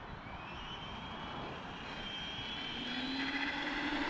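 A brushless-upgraded Traxxas Rustler VXL RC car runs flat out outdoors, giving a continuous, fairly distant high-pitched motor whine whose tone sweeps gradually upward.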